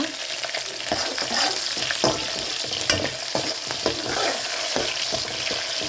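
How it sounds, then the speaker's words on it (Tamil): Tomato pieces stirred and sautéed in a pan for a dried-fish curry, with a steady sizzle and repeated scraping and clicking strokes of the spoon, close and fairly loud throughout. "சேர்த்து தக்காளி நல்லா வதங்குற அளவுக்கு கிளறி விடுங்க"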